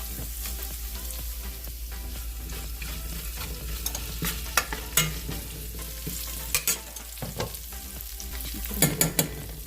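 Curry leaves sizzle in hot oil while tempering for kodo millet curd rice, a loud constant crackling fry with sharp spattering pops and occasional stirring scrapes.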